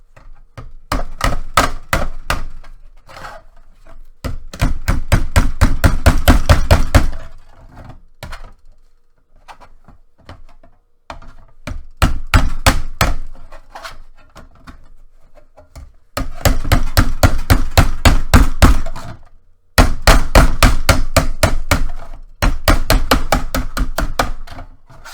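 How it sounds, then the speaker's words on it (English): A ductwork hammer folds sheet metal with bursts of rapid, sharp metallic blows, loud and close, separated by short pauses across the whole stretch with no voices. "With our ductwork hammer. All right, and then we can fold it over"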